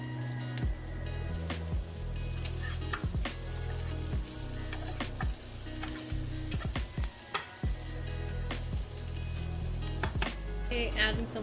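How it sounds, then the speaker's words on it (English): Onions and garlic sizzle steadily in hot oil in a home kitchen, with scattered clicks and scrapes of stirring breaking through the constant hiss. "my oil is hot. I'm going to add the onions and"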